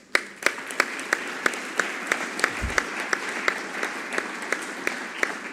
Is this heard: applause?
yes